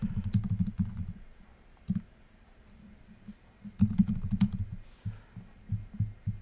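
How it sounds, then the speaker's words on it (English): Fast bursts of typing on a computer keyboard, clattering in quick clusters separated by short pauses, close and fairly loud with no talking. "Let me just type that out here."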